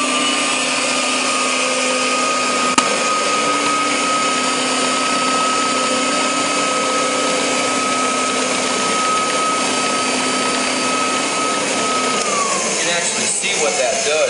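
A loud, steady motor whine from a carpet vacuum with a rotating brush running continuously on nylon Berber carpet, with a sustained tone that drops in pitch near the end as it winds down.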